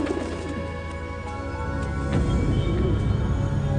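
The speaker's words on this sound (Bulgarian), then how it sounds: "Това са истински гълъби." Real pigeons cooing softly during a stage magic trick, low repeated coos that thicken and grow a little louder in the second half, with no talking.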